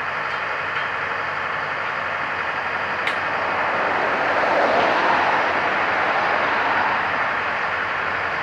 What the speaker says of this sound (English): Here comes a Griffin switcher back from wherever they've been.